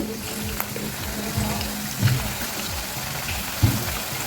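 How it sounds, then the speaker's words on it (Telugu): Bitter gourd pieces fry gently in a pan over a low-to-medium flame, a steady soft sizzle and crackle with occasional small pops, continuous and close throughout. "హై ఫ్లేమ్లో కాకుండా లో టు మీడియం ఫ్లేమ్లో పెట్టుకుంటూ చక్కగా వేయించండి"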